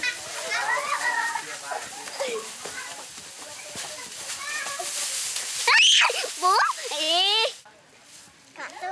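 Children play in a farmyard in a rural Cambodian village, with lively voices, excited shrieks and high squeals mixed with scattered splashing and background chatter.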